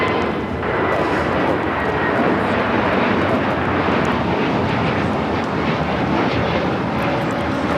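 A Viva Airlines Airbus A321neo roars on takeoff from LAX bound for Monterrey, a loud, sustained engine rumble and whine held steady throughout, heard from a distance.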